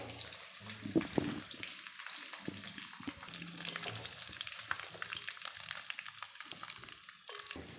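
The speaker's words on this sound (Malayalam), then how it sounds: "നമുക്ക് നമ്മുടെ ചിക്കനൊക്കെ ഒരു സൈഡ് വന്നിട്ടുണ്ട് നമുക്കൊന്ന് തിരിച്ചിട്ട് കൊടുക്കാം" Chicken 65 pieces frying in hot oil, a continuous close bubbling sizzle with intermittent scrapes and clinks as the pieces are turned over in the pan.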